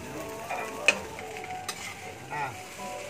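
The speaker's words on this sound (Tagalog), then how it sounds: "Haluin lang natin ito." Sinangag fried rice being stirred in a pan, with soft scraping and a low sizzle running steadily, plus a couple of brief sharp clinks of the utensil against the pan.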